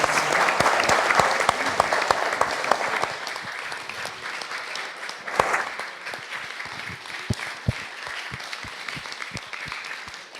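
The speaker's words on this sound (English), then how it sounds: "So, a round of applause." Audience applause at a political conference fringe event on fracking and the climate emergency, with dense, loud clapping that fills the first few seconds, then thins into scattered individual claps that fade out.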